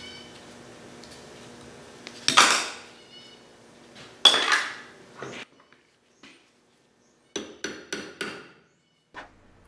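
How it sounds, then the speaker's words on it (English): Several sharp metallic hammer strikes on a punch drifting a key out of a Dana 60 axle, a couple of loud ringing blows followed by a quicker cluster of lighter taps, with quiet gaps between. "We'll just use a hammer and a punch to drift this key out."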